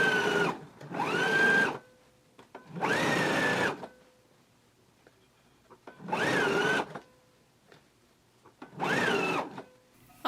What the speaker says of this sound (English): I'm going to go ahead and understitch my facing